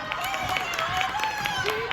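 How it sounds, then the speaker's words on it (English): A basketball crowd at a school game between Middletown Christian Eagles and MVCA Lions cheers and claps in a busy, continuous wash of noise, with scattered shouts and sharp claps over the din. "The crowds are going nuts here."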